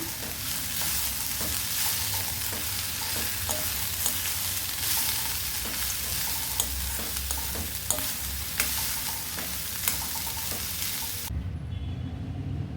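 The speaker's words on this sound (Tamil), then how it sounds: "இப்போ இது எல்லாத்தையும் சேர்த்து நல்லா கலந்து விட்டுக்கலாம்" White chickpea sundal is stirred and sautéed in a pan, a steady close sizzle and frying crackle with repeated scraping clicks of a spoon against the pan, before the sizzle abruptly softens near the end; nobody speaks.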